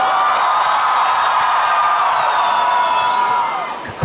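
A large crowd at a comic con in Mumbai cheers and whoops continuously, a dense wash of voices that holds steady before tapering off near the end.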